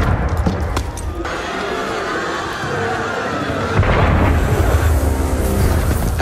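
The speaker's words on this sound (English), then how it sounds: "That was cannon fire." Heavy booms of cannon fire in Assassin's Creed Unity rumble amid loud, chaotic game noise, with a few sharp impacts standing out in the din.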